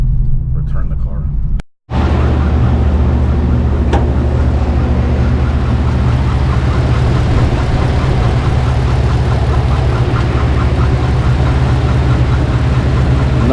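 A 2014 Chevrolet Caprice PPV police car engine running with a fault noise, a steady low rumbling idle that continues loud and unbroken after a brief dropout near the start, with faint speech at the opening.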